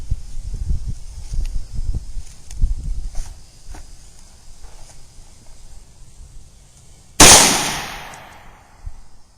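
A handgun fires a single Winchester 155 grain JHP round from a bench, one sharp loud crack with a short decaying tail, preceded by quiet shuffling and handling noise.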